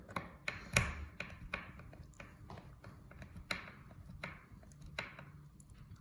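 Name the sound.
screws being driven into wood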